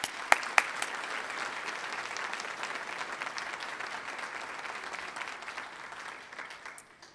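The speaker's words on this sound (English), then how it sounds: "Could we have one more round of applause," An audience at a PTA Founder's Day celebration gives a round of applause for honorees, with a few sharp near claps at the start and then sustained crowd clapping that tapers off.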